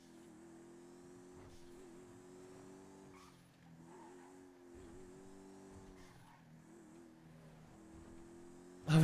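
Fiat Panda driving in the video game Warzone 2.0, its engine droning and rising through long gears with brief tire squeals, fairly quiet and steady, ending in a sudden loud burst.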